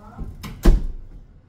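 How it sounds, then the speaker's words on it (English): A bathroom door at home swings shut with a single solid thump at close range, preceded by faint shuffling and followed by a quiet room. "Will you close the door?"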